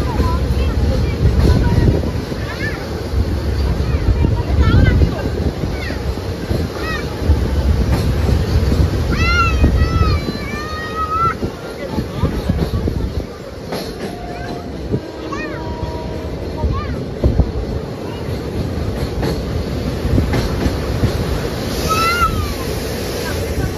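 The Teesta Torsha Express passenger train runs on rails near Farakka Junction, a steady loud rumble and wind roar filling the whole span, with faint whistling tones and brief squeals above it.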